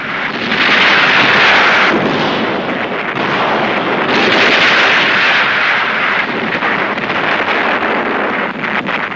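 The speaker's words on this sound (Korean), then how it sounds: "천여 대의 비행기가 월미도의 하늘을 덮었습니다." Massed military aircraft flying over Wolmido island in wartime make a loud, continuous, rushing roar that swells and eases across the whole stretch, with no speech.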